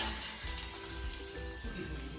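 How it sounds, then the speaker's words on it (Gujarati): Pakodi puris fry in hot oil with a close, steady sizzle, small pops and crackles breaking through now and then. "તો ગાઈસ જો હવે લલિત પકોડી તળે છે"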